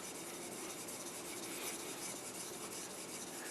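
A semi-stainless steel knife ground along its shinogi line on a whetstone, a steady, continuous rasping rub without pauses, close but quiet.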